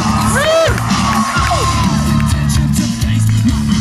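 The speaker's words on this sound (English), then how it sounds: "Cheers and claps are all the same. So let's get loud, everybody." Crowd at a BMX stunt show at the State Fair of Texas cheers, whoops and yells for a rider, a loud, dense wash of voices with children shouting, sustained through the whole stretch.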